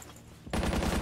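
Sudden loud burst of rapid automatic gunfire in a multiplayer war shooter, a machine gun firing a dense rattling stream after half a second of quieter ambience.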